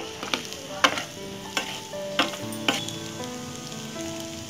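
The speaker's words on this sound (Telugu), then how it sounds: "మనం ఈ సాస్ని కూడా మనం బాగా మిక్స్ చేసేద్దాము ఈ పాస్తాలో" Tomato chilli sauce stirred into Maggi masala pasta in a pan, with a spoon scraping and tapping the pan in about six distinct strokes over a soft sizzle, under quiet background music.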